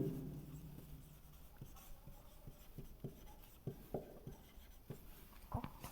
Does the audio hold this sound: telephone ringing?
no